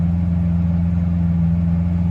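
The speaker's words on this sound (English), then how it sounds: "you'll hear the exhaust note change" A Lamborghini Aventador LP750-4 SV exhaust in Corsa mode: a steady, loud engine drone with a deep low rumble, idling evenly without revving, close and alone.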